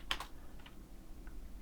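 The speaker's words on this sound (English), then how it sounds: "we can verify that it worked by typing mpf -- version" A few quick, faint keystrokes on a computer keyboard as a command is typed, clustered at the start and then sparse taps, with no talking.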